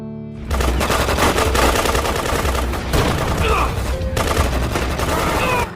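Loud, dense machine-gun fire rattles in rapid bursts during a film scene of violent clashes in South Africa, with brief pauses and some tonal background sound under the shots.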